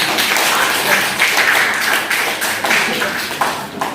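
Classroom applause from a group of students, a dense, steady patter of many hands clapping close by for about four seconds, easing slightly toward the end.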